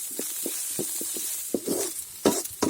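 Coriander leaves for chicken saaru fry in a pan with soft, steady sizzling and a series of short stirring scrapes, growing louder toward the end, with no talking.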